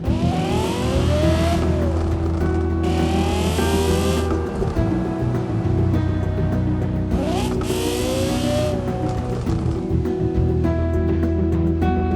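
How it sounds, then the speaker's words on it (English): A red Porsche Carrera GT in the driving game BeamNG.Drive, its engine droning steadily with rising and falling revs as it shifts through gears, loud and continuous with no voices. "taking a red Porsche Carrera GT for a joyride"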